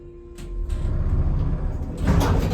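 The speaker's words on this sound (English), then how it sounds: "The doors are also very rough." A Concord Orion elevator's doors slide roughly in a Millcreek Township healthcare building, with a soft start followed by a louder, grinding rumble toward the end.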